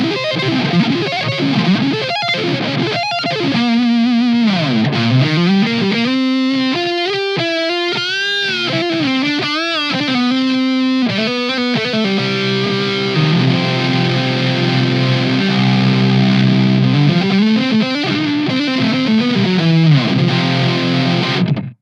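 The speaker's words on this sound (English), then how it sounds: "We'll do some sweeps on the neck pickup." A Solar V 1.6 FRC electric guitar played through the neck pickup with distortion, running continuous fast arpeggiated sweeps that rise and fall across the strings, loud and steady for over twenty seconds, no talking.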